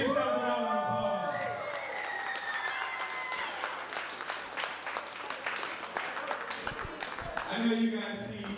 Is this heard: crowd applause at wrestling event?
yes